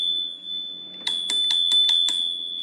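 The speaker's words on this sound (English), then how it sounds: "Right above that, you do have a bell." A handlebar bell on a Caroma E68 electric scooter rings six times in quick succession, bright and close, over a steady high tone.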